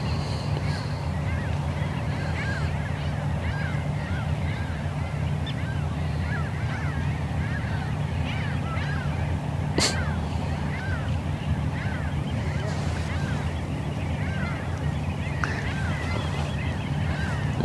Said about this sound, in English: It just dawned on me how much bird noises there are here.